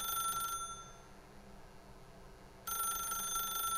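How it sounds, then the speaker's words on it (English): An office telephone rings in the video game The Stanley Parable, a quiet electronic ring that sounds, pauses for about two seconds, then resumes. "Итак, мы можем ответить на телефон или отключить его."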